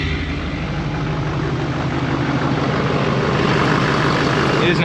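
An LBZ Duramax diesel truck engine with a 5-inch exhaust to a bed stack idles steadily for about five seconds, a loud, continuous low rumble with broadband texture and no talking.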